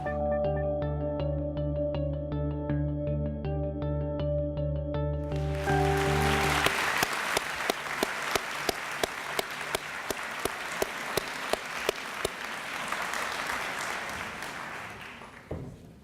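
Audience applause at a literacy awards ceremony for nominees and winners, a steady wash of clapping with sharp individual claps, rising after several seconds of music and continuing to the end.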